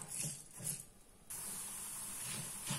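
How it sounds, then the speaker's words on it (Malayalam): Mustard seeds splutter in hot oil for a chutney, a few soft bursts followed by a sudden, steady frying hiss with faint crackles, fairly quiet and free of speech. "കടുക് പൊട്ടി തുടങ്ങുമ്പോൾ നമുക്ക് മുളകിടാം."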